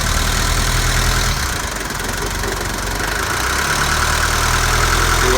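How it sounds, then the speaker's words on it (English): A diesel car engine idles loudly and close up with the hood open, a steady rough rumble with a knocking texture that barely varies over several seconds. "This is a diesel, so it is loud."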